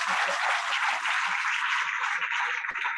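Audience applause at a national music conference in Nigeria, continuous crowd clapping heard from a distance and sustained throughout, with faint voices underneath.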